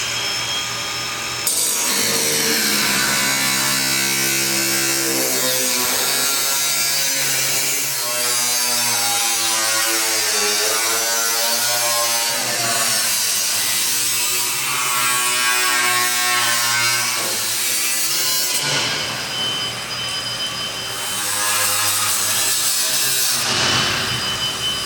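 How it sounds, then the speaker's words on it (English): A power tool cuts through rusty sheet metal on a 1965 Chevy C10 during chop and rust repair work, a loud, continuous buzzing grind that runs steadily for most of the span, stops briefly, then starts again near the end. "I'm getting ready to cut the last bit off."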